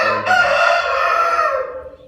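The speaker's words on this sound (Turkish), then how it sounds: "Sultan horozu." A Sultan rooster crows one long, loud call lasting about two seconds, starting with a sharp rise and trailing off at the end, close by and alone.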